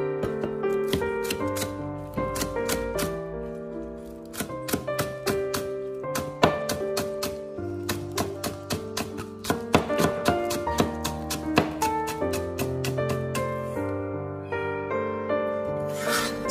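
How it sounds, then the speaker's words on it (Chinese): A knife chops scallions into small rings on a cutting board, giving a quick run of sharp, irregular taps under steady background music in a home kitchen. "将小葱切成葱花"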